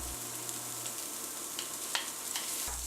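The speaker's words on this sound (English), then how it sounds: "Add 1 tablespoon of oil and fry the julienne carrot" Julienned carrot frying in a tablespoon of oil, a steady soft sizzle with occasional faint stirring scrapes, close and fairly quiet, no talking.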